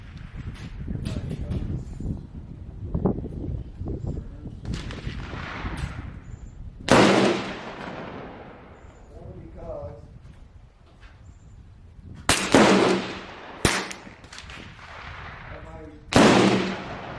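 Rifle shots at a shooting range on a windy day, several sharp cracks spaced seconds apart, loud and close, with people talking between shots.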